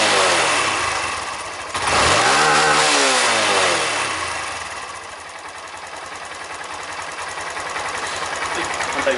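A used 125cc Honda Grom JC61 motorcycle engine idles steadily and a little low, a loud close mechanical putter that jumps briefly in pitch as it is blipped near the start, then settles into an even running tone.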